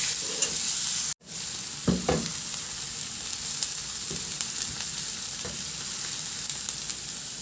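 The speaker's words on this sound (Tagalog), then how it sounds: "Ganong process lang din, ihalo hanggang sa maluto yung sibuyas." Garlic and onion sautéing in a pan for a simple milkfish dish, a steady close sizzle with a few stirring scrapes and clinks, briefly cut off near the start.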